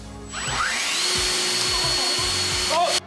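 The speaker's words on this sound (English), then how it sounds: "Or this fan." An electric fan switches on and runs with a steady whirring drone, a continuous mechanical hum holding level throughout with a faint tonal whine above it, close and fairly loud.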